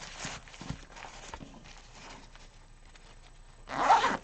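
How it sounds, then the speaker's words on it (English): The top zipper of a backpack pouch makes a short, close, loud rasp near the end, following quiet handling sounds. "When you open the top zipper"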